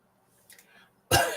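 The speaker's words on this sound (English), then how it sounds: "I seem to cough a little bit today." A faint breathy sound, then one sharp, loud cough close to the microphone at the end.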